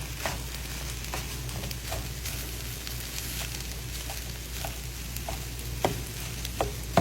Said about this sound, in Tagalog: kailangan kasi halo ng halo para madurog yung mga buo-buong kanin